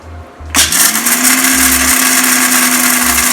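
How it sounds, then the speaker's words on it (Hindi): A kitchen mixer grinder grinds peanuts and whole red chillies, starting abruptly with a loud, steady motor whine and rattling grind that continues without pause; no talking. "सबसे पहले मूंगफली और साबुत लाल मिर्च को पीसेंगे"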